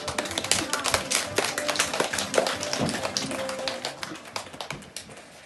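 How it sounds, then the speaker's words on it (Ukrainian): Audience clapping as contestants walk onto the stage at a school theatre production about a choice-themed olympiad, a dense patter of many hands held steadily throughout, moderately close. "Ми вас зустрічаємо, зустрінемо їх оплесками."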